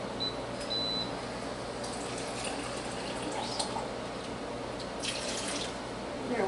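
Tap water runs steadily into a measuring cup for a hamburger dill pickle brine, a close, constant splashing wash with a few faint clinks and a brief high beep early on.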